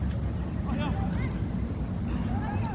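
Strong outdoor wind buffets the microphone in a steady, loud low roar that lasts the whole time, with a voice faintly talking over it.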